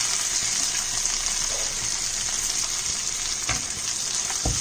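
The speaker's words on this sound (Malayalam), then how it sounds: "ഇനി നമുക്ക് തക്കാളിയും കൂടെ ചേർത്ത് നന്നായിട്ടൊന്ന് വഴറ്റാം." Browned onions, tomatoes and curry leaves sizzle steadily in a pan for Kerala-style chicken roast, with a continuous loud frying hiss and occasional stirring scrapes close by.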